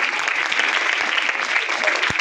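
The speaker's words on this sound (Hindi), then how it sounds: "खुदा के जलाल के लिए जोरदार तालियां बजाएं" A church congregation breaks into loud, dense applause during a Christmas sermon, many hands clapping together in a steady roar that fills the whole stretch, close and sustained with no gaps.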